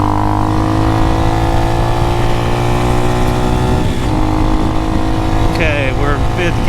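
Amazon X-Pro motorbike engine droning steadily in fifth gear at speed, loud and close with constant wind roar throughout.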